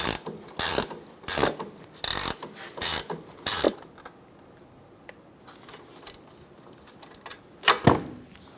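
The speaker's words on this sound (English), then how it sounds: "Using an 18mm wrench and a 6mm hex head, we're going to snug down the nut for the sway bar link." An 18mm wrench ratchets the sway bar link nut tight on a Chevrolet Sonic's front strut: five or six quick, loud clicking bursts in a steady rhythm, then near quiet and one last close burst.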